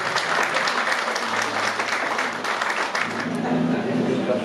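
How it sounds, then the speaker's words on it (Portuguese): Studio audience applause on a Portuguese variety show fills the space with steady, dense clapping that stays loud throughout, and a faint tone or voice surfaces near the end. "Uma salva de palmas."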